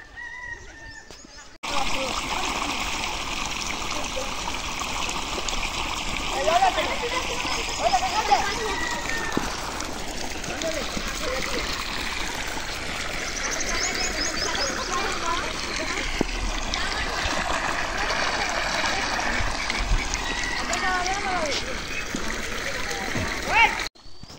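Water is bailed out of a fish pond in the early morning, a continuous loud rush and splash of water close by, steady throughout with faint voices in the background.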